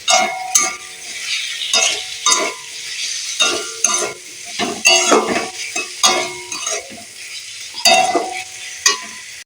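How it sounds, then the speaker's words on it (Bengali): Tomatoes softening with salt in a frying pan are stirred steadily, the spoon scraping and clicking against the pan in repeated bursts over a soft sizzle, close and clear with no talk. "যতক্ষণ গোলা গোলা হচ্ছে ততক্ষণ আমি নাড়তে থাকবো"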